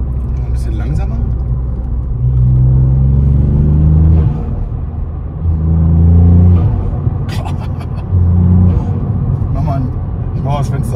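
A Ford Fiesta ST Mk8 with a Milltek exhaust and Pipercross intake drives slowly, its engine droning deep and loud while rising in repeated throttle blips and revs, with people talking inside the car throughout.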